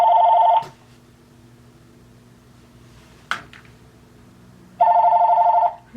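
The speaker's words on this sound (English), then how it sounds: "I'm taking this phone out of the room." A telephone rings in a quiet room: a loud electronic ring, a pause with a brief knock, then the ring again.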